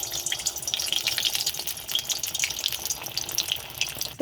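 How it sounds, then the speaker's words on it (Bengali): Bread balls stuffed with potato and made from soaked bread frying in hot oil. A steady, busy sizzle with fine crackle runs throughout and stays fairly close. A sharp clatter comes at the very end. "তেলটা গরম হয়ে গেছে, তো এটা ভাজার জন্য আমি ছেড়ে দিচ্ছি।"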